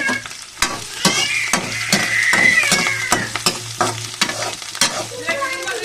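Onions, green chillies, curry leaves and dried chillies sizzle in hot oil as a tempering for leftover-idli upma. A close, continuous sizzle is broken by repeated scraping stirs of a spatula.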